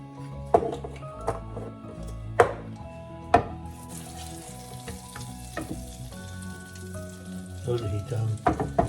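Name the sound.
butter melting and sizzling in frying pan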